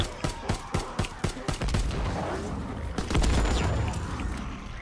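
Rapid bursts of FG-42 automatic rifle fire in Call of Duty, loud and close, a string of sharp shots followed by dense overlapping gunfire and booms.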